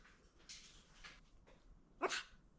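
A pet dog named Scarlett gives one short, sharp bark on command, preceded by faint whimpers and snuffles, fairly close in a quiet indoor space.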